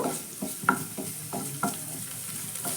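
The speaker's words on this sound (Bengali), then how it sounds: "এবার এই এক সাইডে আমি পনিরগুলো একটু নেড়ে নেব" Paneer cubes being stirred and fried in a pan, pushed to one side beside capsicum, with a steady sizzle broken by regular scraping strokes of a spatula, close and clear with no talking.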